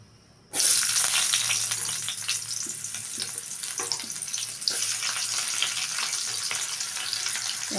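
Onions hit hot oil in a pan used for a rohu fish curry with ash gourd, bursting into a sudden loud sizzle that keeps crackling steadily with stirring sounds, no voices.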